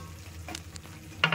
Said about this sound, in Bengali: এবারে আমি এর মধ্যে পটলগুলোকে দিয়ে দিচ্ছি।